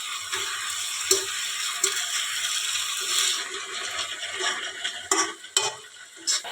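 Vegetables and tomato going into a pan for a potato-eggplant curry, a steady soft sizzle with scattered scraping stirs and light clinks of a utensil against the pan, fairly quiet and close, with no talk.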